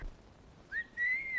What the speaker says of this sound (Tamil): எத்தனை தடவை சொல்லிருக்கேன் விசில் அடிக்காத விசில் அடிக்காதன்னு?